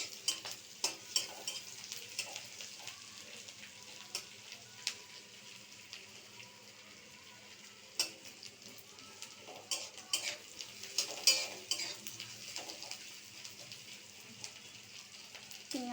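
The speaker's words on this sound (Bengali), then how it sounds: "পেঁয়াজটা লাল লাল হয়ে ভাজা হয়ে আসবে।" Onions fry in a pan for a fish roe curry, a soft, steady sizzle broken by frequent clinks and scrapes of a spoon stirring against the metal, quiet and close.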